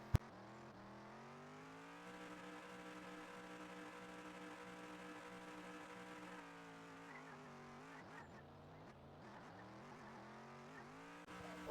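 A car driven in a video game, its engine a steady sustained drone that rises in pitch at times, with shifting revs and possible tire noise near the end, loud and alone with no talking.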